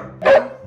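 A single sharp dog bark rings out close by, short and loud, with quiet before and after.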